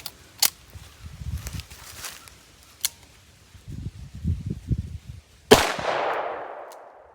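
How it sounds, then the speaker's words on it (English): A 9mm snub-nose revolver fires factory Corbon ammunition, a few sharp cracks spaced apart with a loud final shot ringing out, amid handling noises and low murmurs. "that's factory Corbon ammo. Again, out of the 9mm snub nose revolver"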